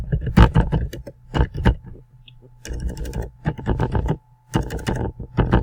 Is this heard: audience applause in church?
no